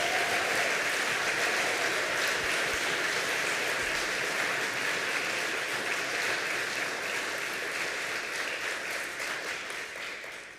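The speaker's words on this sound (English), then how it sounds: "Can we give a massive round of applause for Russ?" Large congregation applause at a climate justice service, a steady dense wash of clapping that holds loud for about ten seconds before tapering slightly at the end.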